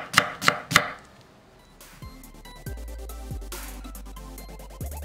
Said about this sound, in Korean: 양파 약간은 요렇게 슬라이스.